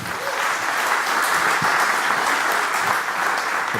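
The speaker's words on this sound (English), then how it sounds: "give him a big applause." A conference audience at Scrum Day Europe 2015 in Amsterdam gives steady, dense applause from many hands. The sustained, even clapping fills the room throughout, with no one speaking over it.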